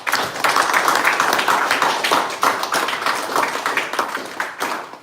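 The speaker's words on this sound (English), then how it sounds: "So I would like to give yourself a big round of applause." A small audience claps after team presentations at a pitch competition and graduation ceremony, dense close handclaps in a steady burst that slowly thins out toward the end.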